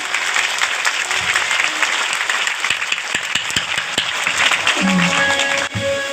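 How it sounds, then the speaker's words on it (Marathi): A crowd at a devotional Shiva chanting gathering applauds loudly and steadily throughout, a dense continuous roar of clapping that thins slightly near the end. "एकदा जोरदार परत ह्या जगेसाठी टाळ्या झाल्या पाहिजे"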